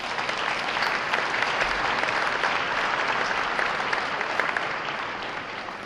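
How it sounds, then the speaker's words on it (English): Guests at a children's hospital anniversary gala give a long, full round of applause, a thick continuous roar of many hands clapping steadily, easing off a little at the end. "Please give yourselves a round of applause."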